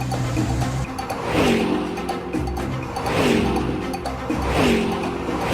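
A car engine revs in repeated surges roughly every one and a half seconds, loud and close, with a steady low rumble filling the gaps between the swells.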